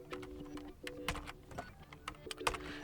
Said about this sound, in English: confirm by typing in delete in all caps